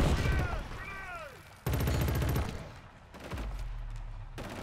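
Enemy gunfire in the shooter game Killzone: Shadow Fall, with bursts of automatic fire that come and go amid other game sounds and brief speech.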